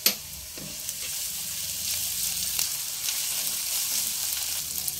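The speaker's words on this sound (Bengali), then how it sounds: "কয়েক মিনিট আদা রসুনের কাঁচা গন্ধটা চলে যাওয়া পর্যন্ত ভেজে নিয়েছি" Ginger garlic paste fries in a pan for cauliflower pulao, a steady close hiss of sizzling oil lasting throughout, with a small clink at the start and no voices.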